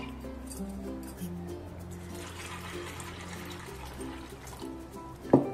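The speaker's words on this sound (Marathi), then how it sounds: "थोडंसं पाणी घालूया" Water pours from a container onto black peas in a cooking tin, a short liquid splash and trickle under steady background hum, ending in a brief louder clatter.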